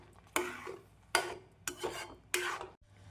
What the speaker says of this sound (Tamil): நாம் குங்குமப்பூவை சேர்த்து நன்றாக மிக்ஸ் செய்ய வேண்டும்